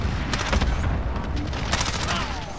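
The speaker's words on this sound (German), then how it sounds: "Ich schieße die ganze Zeit weiter, Alter." Rapid gunfire in Call of Duty multiplayer, repeated sharp close shots in quick bursts with occasional booms, loud and continuous.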